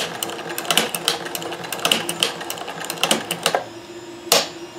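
A Kenmore 158.1040 sewing machine fitted with a Singer hemstitching attachment runs in short bursts. It makes a quiet, rhythmic mechanical clatter with a few sharper clicks and no talking.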